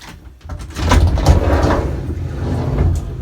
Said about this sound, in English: when you hear this slam, anybody that knows a Volkswagen door slam, you can already hear the difference of what it sounds like when it closes